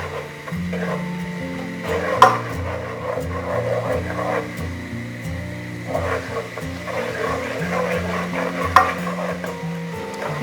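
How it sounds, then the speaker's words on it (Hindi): Onions and curry leaves frying in a pan, stirred steadily, giving a low continuous sizzle with a couple of sharp utensil knocks against the pan, close and fairly loud with no talking. "इसको हम अच्छे तरीके से हिलाते रहेंगे ताकि ये जले नहीं।"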